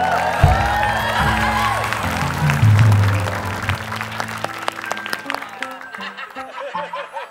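A crowd claps steadily and loudly at first, mixed with laughter and cheers, then the applause thins into scattered claps and fades under a few voices.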